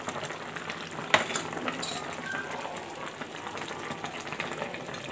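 Fish frying in a pan, a steady soft sizzle with a sharp metallic clink early on and a few light scrapes, fairly quiet with no voices.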